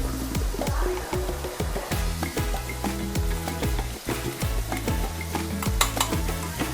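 Ground masala stirred into wild bitter gourd curry frying in a pan brings a busy sizzle under rhythmic, clattering strokes of a spoon against the metal pan throughout.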